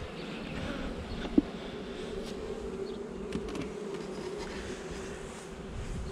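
Dense, steady buzzing of many honey bees close by at a hive while a swarm is caught, a continuous hum with a few sharper flybys and faint clicks.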